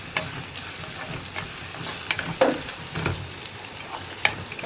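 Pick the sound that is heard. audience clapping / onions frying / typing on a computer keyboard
onions frying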